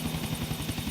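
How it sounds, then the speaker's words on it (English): Police helicopters chasing in the video game GTA IV, a brief, loud, continuous rotor drone with a steady rhythmic chop filling the whole moment, with no voices. "they might have their helicopters still chasing down and bearing down on me"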